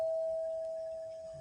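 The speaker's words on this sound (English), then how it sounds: "Now, let me do the doorbell again." A doorbell sound effect replayed on a live stream: one steady sustained chime tone, fairly loud and close, slowly fading with faint room noise beneath.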